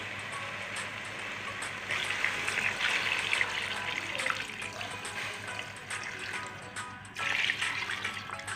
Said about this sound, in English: So now you add your water.